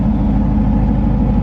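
Exhaust on a 2017 Chevrolet Camaro 2SS revved toward about 4000 RPM, a loud, steady, deep engine roar held for the whole moment with no break.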